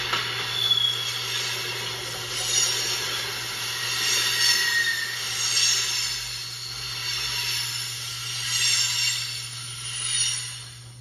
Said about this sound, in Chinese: 铁路列车听起来是这个。